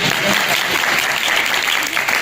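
A church ministry audience claps steadily and loudly for a couple of seconds, a dense, continuous wash of applause from many hands close by.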